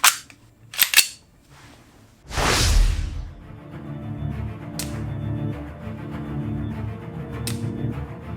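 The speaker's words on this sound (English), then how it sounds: "I'll shoot all 11 at this target and see what results we get" SRC SR-33 Tokarev TT-33 airsoft pistol fired at a target: several sharp, close pops at irregular intervals, one followed by a louder rushing burst, over a faint steady background hum.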